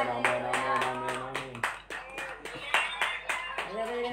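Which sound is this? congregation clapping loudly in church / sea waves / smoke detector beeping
congregation clapping loudly in church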